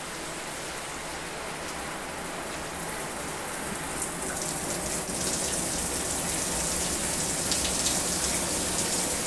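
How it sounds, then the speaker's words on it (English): Water sprays from a Speakman S-2252 brass fixed shower head with six intersecting jets, making a steady, dense hiss and patter that swells slightly louder partway through and continues without pause. "So you can see the sprays are like, 6 jets, and they're all kind of intersecting, interweaving."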